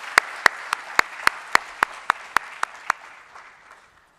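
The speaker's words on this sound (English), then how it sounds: "Please give a warm applause to Mr." Applause greets a speaker at an annual investment forecast event as a series of sharp, evenly spaced claps in steady unison rhythm. About a dozen strong beats are followed by a brief fading tail.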